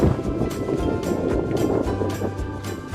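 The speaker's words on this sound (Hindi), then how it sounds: "बस बहुत तेज हवा चल रही है ना" Strong wind roars steadily across an open dam in Gumla, Chainpur, buffeting the microphone with a continuous low rumble and gusty surges throughout, with no talk audible.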